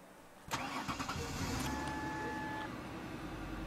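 A car engine cranks and fires up in the video game Pop Life, a sharp starter burst followed by a few chugging turns that settle into a steady idle hum, moderately loud with no talking.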